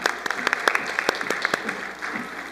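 Scattered audience applause at a Hanukkah and Shabbat service: a modest number of people clap in uneven, distinct claps that thin out after a couple of seconds.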